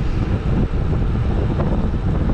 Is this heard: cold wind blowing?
yes